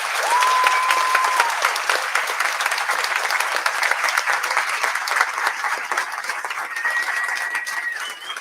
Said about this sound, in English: So please give them a loud round of applause.